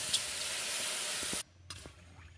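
Ghee-fried lentils hiss and sizzle loudly as water is poured in, a dense, close burst of sizzling that cuts off abruptly, followed by quieter bubbling and a few faint clinks.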